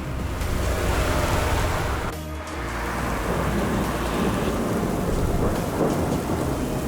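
Heavy rain pours down in a dense, steady roar, with a low rumble like thunder underneath and a brief dip midway before the downpour swells again.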